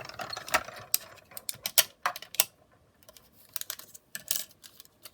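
A paper sandwich for a small manual die-cutting machine is fed through its rollers for a party card, giving a run of quiet, irregular clicks and rattling mechanical ticks, close by and with no talking.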